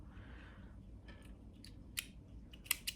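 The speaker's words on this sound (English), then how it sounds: "Cut your thread off" A few sharp snips of scissors cutting crochet thread, quiet and close, with short pauses between cuts.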